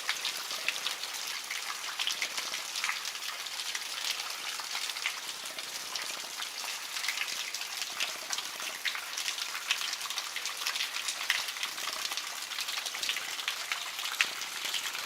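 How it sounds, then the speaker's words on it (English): Water drips inside the ice cave on Wildcat Mountain, a soft, steady patter of many small drops that continues evenly and fairly faintly, with no voices. "I am underneath here now. You can see close and you can hear the dripping."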